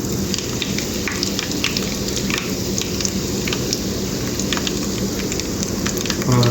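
Curry leaves sizzling in hot oil with cumin seeds: a dense, steady crackle and hiss, like rain on a surface, loud and continuous throughout with no voices.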